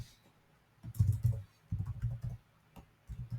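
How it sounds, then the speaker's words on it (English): Typing on a computer keyboard while working in Salesforce CPQ software, with short bursts of clicky keystrokes grouped into a few quick runs and brief pauses between them, close and fairly quiet. "So you would just type in region,"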